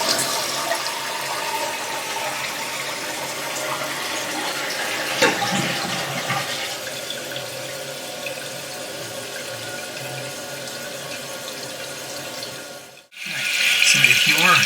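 A toilet tank refilling with water up to its fill line, a steady hiss and trickle of inflowing water that continues for most of the time before briefly cutting off near the end.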